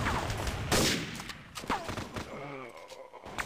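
Gunfire in the Critical Strike mobile shooter: a few sharp shots and short bursts mixed with game sounds, while a voice talks over them.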